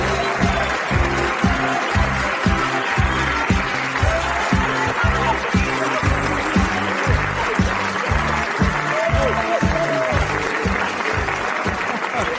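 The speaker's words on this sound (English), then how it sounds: "please give a round of applause" A studio audience claps steadily and loudly for several seconds, a sustained, dense wave of applause with scattered cheers and a voice or two faintly underneath.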